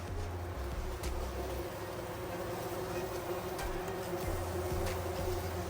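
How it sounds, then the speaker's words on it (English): Honey bees hum in a steady low drone inside a hive in a plant-growing space, a continuous buzz with faint clicks and rustles and no talking. "So in here are the bees."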